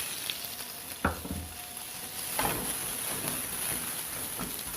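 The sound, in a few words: sautéing onion and carrot in a little oil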